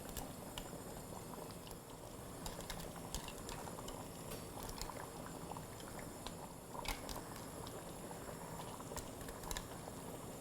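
Ash reshteh, an Iranian noodle soup, bubbles and sloshes in a pot as it is stirred, with small scraping clicks against the sides, steady and close, no voices.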